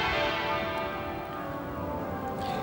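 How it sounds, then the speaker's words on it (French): The bells of Westminster Abbey peal continuously during a 1997 state funeral, many overlapping rings sustained loud and dense, with no other sound standing out. "Ce sont les cloches de l'abbaye de Westminster que vous entendez retentir."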